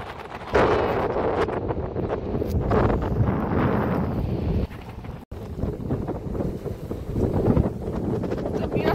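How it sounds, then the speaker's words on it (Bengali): Strong wind buffets a small fishing boat out at sea among rolling waves, a loud, roaring gusty rush close to the microphone, with a brief drop near the middle. "বাতাস আর হচ্ছে ঢেউ আসতেছে।"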